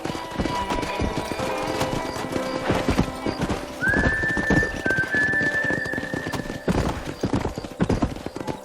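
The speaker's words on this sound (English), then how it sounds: "Those horses won't hang around for long." Loud drumming hoofbeats of wild horses running close by in Red Dead Redemption, with a horse whinnying partway through over the continuous galloping.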